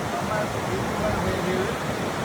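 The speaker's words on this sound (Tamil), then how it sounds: "பாருங்கள் நயகரா ஃபால்ஸு பெரிய ஆறு" Roar of Niagara Falls, a huge waterfall on a big river in America, heard as a steady, dense rush of crashing water with a faint wash of voices and wind blended into the constant broadband din.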